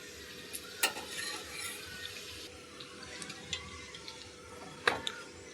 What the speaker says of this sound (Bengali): এবার এর মধ্যে লুচিগুলো ভেজে নেব